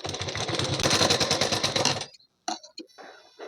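A sewing machine runs a fast, steady burst of stitching along a half-inch seam on a blouse, then stops abruptly, followed by a few brief clicks and handling noises.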